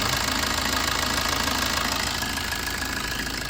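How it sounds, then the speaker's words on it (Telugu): A 2014 Maruti Swift VDI diesel engine idles with the air conditioning running, giving a close, steady, slightly knocking diesel clatter with no one speaking. "ఇది ఇంజన్ ఇప్పుడు ఆల్రెడీ విత్ ఏసీలో నడుస్తుంది."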